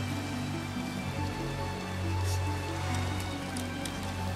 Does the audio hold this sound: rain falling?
yes